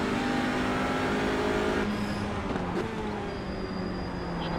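TCR touring race cars at Road Atlanta in the iRacing sim, several engines revving and shifting together in a steady loud drone, with a car passing and pitch changes midway.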